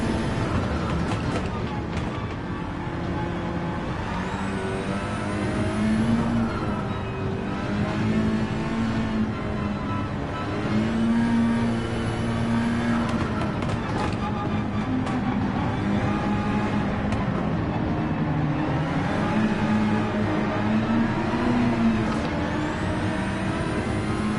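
Race car engines in Gran Turismo 7 hum and rev continuously, with pitch rising and falling through gear changes and an occasional rival car roaring close by, loud and steady throughout.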